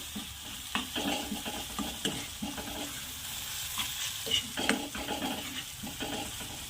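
Spoon stirring and scraping through crushed peanut powder in a hot pan for flat bean sabzi, giving a steady scratchy rustle with soft clinks and a faint sizzle, close and continuous with no talk.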